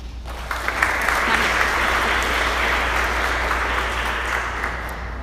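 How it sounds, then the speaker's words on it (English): A crowd at a school sports awards ceremony claps for the boys, a dense sustained applause that starts abruptly and holds steady, loud and close. "one more round of applause for these boys for doing such a great job"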